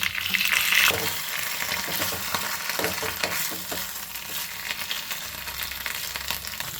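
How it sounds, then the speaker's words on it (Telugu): Ajwain leaves frying in hot oil in a pan, a continuous bright sizzle with scattered crackles and occasional stirring scrapes, fairly close, and no talk. "ఇది కూడా ఒకసారి ఆయిల్లో అయితే ఫ్రై చేసుకుందాం మనం"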